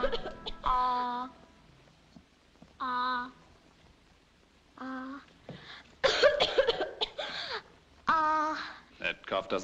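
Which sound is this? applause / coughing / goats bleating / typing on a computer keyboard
coughing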